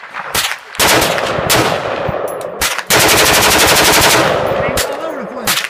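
Rapid bursts of gunfire from an AR-15 rifle fitted with a slide stock, loud and close. A few single shots lead into two long continuous strings of fast, rattling reports.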